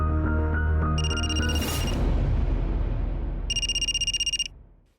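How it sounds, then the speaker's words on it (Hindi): A telephone rings in two short electronic trilling bursts separated by a pause, heard over a low booming musical underscore in a Hindi crime drama scene. "अरे उन्हीं का फोन है।"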